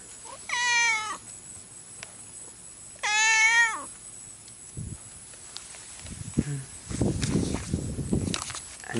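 A cat meows twice in clear, drawn-out wavering calls, close to the listener, on a visit to Okinawa; footsteps and light movement follow, with people talking briefly afterward.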